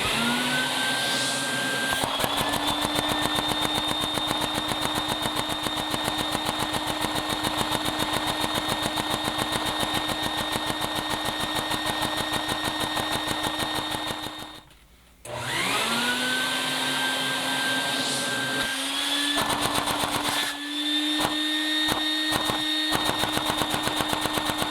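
A vacuum-modded LEGO model of a Briggs & Stratton engine runs with a loud, steady whirring whine. It cuts out briefly partway through, then spins back up to the same buzzing drone.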